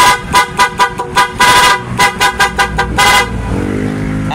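A motorcycle horn honks loudly and close, first in a run of rapid repeated toots, then sustained blasts and more quick bursts, before stopping into a quieter rumbling background.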